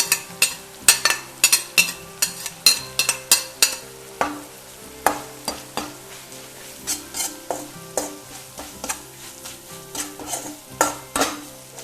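Garlic, green chilli and chilli powder sizzle and fry in a pan while a spoon scrapes and stirs in a steady run of clinks across the whole stretch, close and fairly loud, with no talking.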